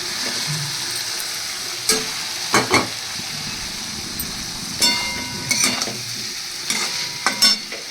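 Fish sizzles in spiced oil in a pan, the frying steady underneath while several distinct scraping stirs cut in, each alone and fairly close.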